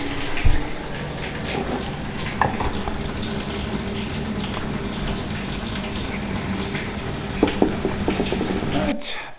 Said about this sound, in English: drop a bit of water in, and the final check, see if there's any leaks